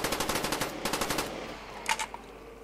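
Rapid automatic gunfire in a Minecraft Call of Duty map game, with two quick bursts of fast shots followed by a few scattered clicks, moderately loud and alone.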